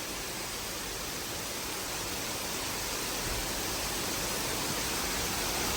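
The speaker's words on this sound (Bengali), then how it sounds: "এই রাস্তাটা দেখো কি পরিমাণ যে বৃষ্টি পড়ছে" Heavy rain pouring onto a street, a dense continuous hiss that grows slightly louder, steady and enveloping with no voices.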